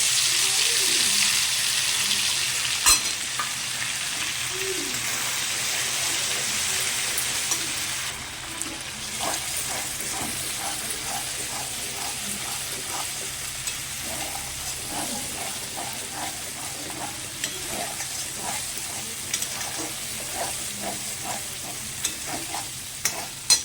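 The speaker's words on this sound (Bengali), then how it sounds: "এবার আমি মশলাটা দিয়ে দেবো। এর মধ্যে আছে পোস্ত, সর্ষে, হলুদ, কাঁচা লঙ্কা চেরা।" A spice paste of poppy seed, mustard, turmeric and slit green chilli fries in a pan with black cumin seeds. A loud, steady sizzle fades to quieter bubbling, with repeated scraping and clinks from stirring throughout.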